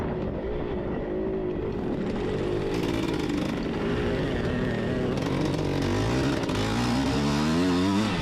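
Dirt bikes race on a motocross track at a cross-country event, their engines droning loudly and continuously with rising and falling revs as riders accelerate nearby.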